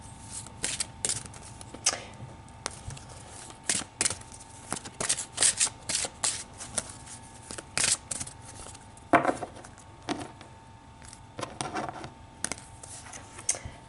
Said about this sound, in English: So let's pull some cards